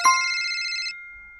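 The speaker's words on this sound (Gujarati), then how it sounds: "તારા મોબાઈલમાં કોકનો ફોન આવે." An incoming call on a mobile phone plays its ringtone, a bright electronic tone sounding close and clear for about a second before cutting off.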